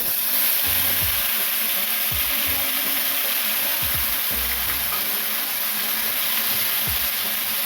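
Tomato, onion, ginger and chili paste fries in a pan with a loud, steady sizzle that runs throughout, broken by occasional low knocks from stirring.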